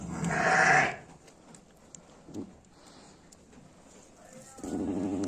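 Ewe and newborn lamb during nursing on a farm, a loud close bleat at the start, then quiet rustling and faint movement before another bleat-like burst at the end.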